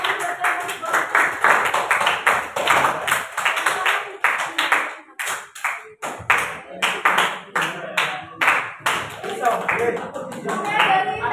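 A classroom of students claps for classmates in bursts of rhythmic, crisp hand claps, pausing and restarting, with children's voices and chatter mixed in.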